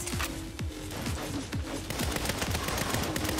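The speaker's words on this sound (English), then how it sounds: "What? I'm missing every shot?" Repeated gunshots in the Saints Row game crack out in quick bursts and single shots, loud and close, with game sound effects layered between them.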